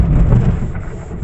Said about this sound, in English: oh, we're getting a really big thunderstorm again